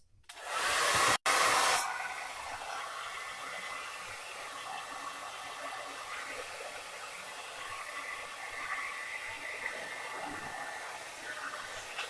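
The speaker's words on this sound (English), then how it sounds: "I'm trying to blow dry this and my hand's wet" Hair dryer blowing steadily on a chalk-painted board, a loud broadband whoosh that cuts out briefly after about a second, then runs on continuously at a slightly lower, even level to the end.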